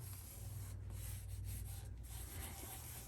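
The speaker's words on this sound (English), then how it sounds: "just a little like this with your rag, you just work it in circles, and you can even spread it around." A rag rubs Lemon-Eze polish in circles over a surface, making a soft, faint, continuous scrubbing swish with a few slightly stronger strokes against a steady low background hum.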